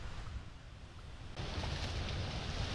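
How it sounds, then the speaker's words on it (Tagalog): Strong, gusty wind sweeping across open farmland beside a fishpond, a steady broadband roar that swells louder partway through and continues without any voices. "Pagkalakas ng hangin po ay akala mo may bagyo"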